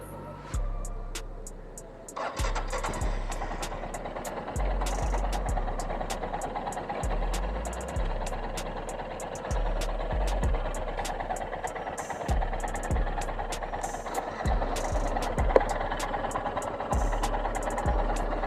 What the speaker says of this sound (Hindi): तो अभी इंजन गर्म हो रहा है